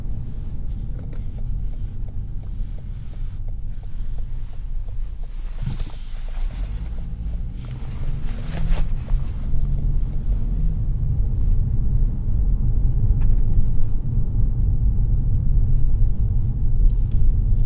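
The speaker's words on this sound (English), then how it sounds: "We're going to go ahead and drop it in drive. Switch it to sport." A 2017 Lexus GS 200t with a four-cylinder engine driving in sport mode, a steady low road-and-engine rumble heard from inside the cabin that builds slightly toward the end, with no talking.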